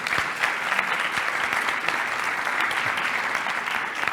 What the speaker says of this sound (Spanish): Lo vamos a recibir con un aplauso también